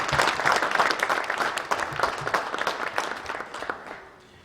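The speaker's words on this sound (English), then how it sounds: "Give yourself a round of applause one more time for me." Graduation keynote audience breaks into warm applause, a dense crowd of clapping that is loud at first and gradually thins and fades over a few seconds.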